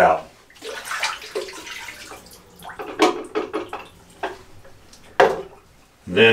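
Wash water poured out of a film developing tank during black-and-white film development with caffenol, heard as irregular splashy gushes and trickles that stop and restart, close by, with brief pauses between pours.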